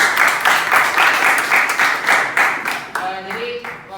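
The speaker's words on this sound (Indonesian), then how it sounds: "Tepuk tangan dulu dong untuk Adit." A classroom of students claps for a classmate in quick rhythmic bursts, loud and close, fading into scattered claps as a voice begins speaking near the end.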